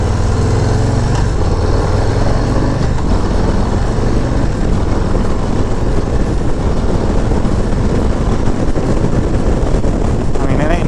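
Harley-Davidson Low Rider ST motorcycle accelerating on an open road, a loud, steady engine roar mixed with wind rush that holds for the whole eleven seconds.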